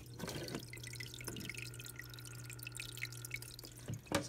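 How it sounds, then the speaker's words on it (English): Soft, steady trickling water with occasional drips over a low electric hum in a 10-gallon aquarium, close and quiet. "So I was able to actually make like waterfall sounds."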